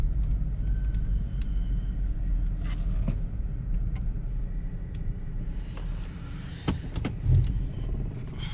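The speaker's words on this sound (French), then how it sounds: "la voiture est en train de chauffer" A Jaguar S-Type R, the 405 hp luxury saloon, idles while warming up: a steady, deep, low rumble holding an even pitch throughout, with a few faint clicks on top.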